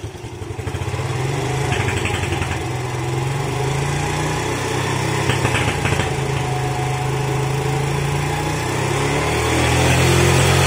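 An old Yamaha Vega R motorcycle engine starts and settles into a steady, close putter at idle. The loud, even chug has a slight lift in revs toward the end.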